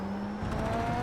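Race car engine in the iRacing sim downshifting one gear, a loud close engine tone dropping and shifting pitch over about a second.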